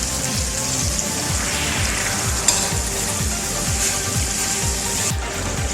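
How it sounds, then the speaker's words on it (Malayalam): Pieces of tuna frying in a pan for Kerala fish curry, a loud continuous sizzle and spatter close up with a faint rhythmic low thumping underneath, no voices. "ഓക്കെ, ഫിഷ് ഫ്രൈ ആയിക്കൊണ്ടിരിക്കുകയാണ്."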